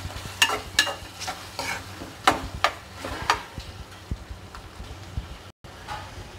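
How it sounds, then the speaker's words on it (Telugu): A prawn and cashew masala curry is stirred in a pan, a run of distinct scraping spoon strokes over a low simmering sizzle, strokes slowing and softening toward the end after a brief gap. "అటు ఇటు మసాలా అంతా ఈ రొయ్యలు పట్టేటట్టు తిప్పుకున్నాం."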